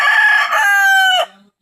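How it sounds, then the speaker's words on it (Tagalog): A rooster crows loudly and close by in one long cock-a-doodle-doo that trails off, with the yard full of chickens at a rural countryside home. "Kumpleto dre na mga manok."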